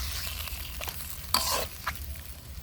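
Fish and spices fry together in a pan over a clay stove, giving a low steady sizzle with a couple of sharper scrapes and stirs; quiet and close, no voices.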